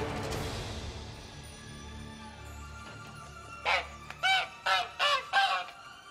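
A caged bird in The Witcher 3: Blood and Wine gives five short, honking calls in quick succession near the end, loud and close over a low game ambience.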